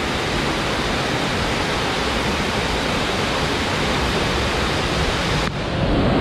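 Rushing water of Vera Falls waterfall on Mt. Malinao in Albay, a loud, dense, continuous roar close at hand that shifts slightly near the end.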